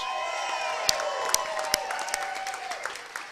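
Kansas City Chiefs fans fill a stadium with a broad roar of cheering and applause before a playoff game against the Indianapolis Colts, with sharp claps and whoops popping out of the crowd noise.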